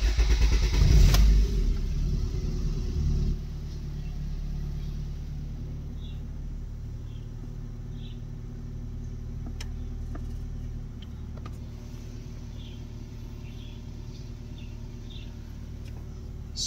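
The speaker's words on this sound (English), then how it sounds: "Okay, we'll start the engine." A Honda Civic D17A engine (2001–2005) cranks and catches with a loud burst, then settles into a steady, low idling rumble that runs on without interruption.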